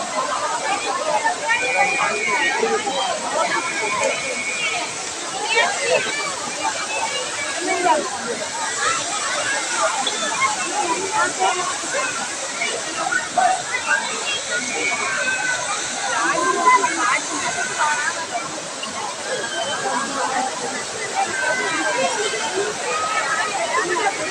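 Five Falls waterfall at Courtallam crowded with bathers during the season, a continuous close roar of splashing water under a steady babble of many voices.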